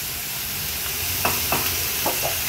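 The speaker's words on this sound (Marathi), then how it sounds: "आता जो हा जवळा आपण स्वच्छ धुवून घेतलेला तो ऍड करूया" Dry tiny shrimps fry on a hot tava over a high flame, a steady sizzle with a few distinct sharp scraping strokes of stirring near the end.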